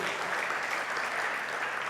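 A church congregation gives hearty applause during a sermon, a thick, continuous roar of many people clapping together, loud and even throughout with no gaps.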